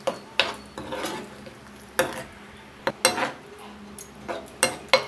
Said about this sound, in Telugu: ఇదంతా బాగా కలుపుకుని కూరని దగ్గరకు ఉడకనివ్వాలి